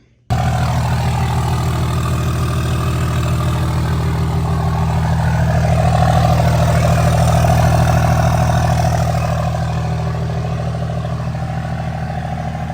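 A heavy engine idles steadily and loudly for the whole stretch, with a deep, constant low rumble and a faint rise in the middle.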